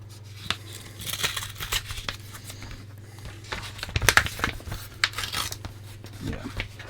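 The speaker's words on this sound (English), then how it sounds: "use the scissors on this" Scissors snip and crinkle through a thin plastic keyboard membrane from a Sinclair Spectrum in short, irregular bursts, with a low hum underneath and quiet rustling between cuts.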